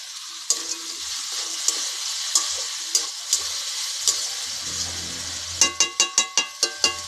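Vegetable curry sizzles quietly in a pan while a spoon clacks against the metal. A few scattered taps are followed by a quick run of sharp, regular scraping strokes near the end as peanuts go in and get stirred.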